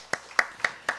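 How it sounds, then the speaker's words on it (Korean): Four crisp, evenly spaced hand claps sound close and fairly quiet in a church worship service, each a short, sharp snap with brief silence between. "우리 한번 박수로 이렇게 하겠습니다"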